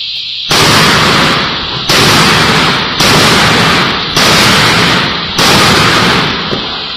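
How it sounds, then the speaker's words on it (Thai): A Derya Mk12 shotgun with a 9.5-inch barrel fires five rapid shots outdoors, each a loud, close blast with a short ringing tail, spaced about a second apart. "บรรจุ5นัดนะครับทำการยิงในแบบเร็วเท่าที่เห็นนะครับ"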